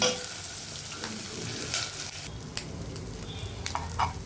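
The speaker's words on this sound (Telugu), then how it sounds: "ఇదిగండి ఎండు చేపలు ఇలా వేగిపోయి చూడండి" Dried fish sizzling and frying in a pan on a stove, a steady close hiss with occasional stirring scrapes and small pops, no voices.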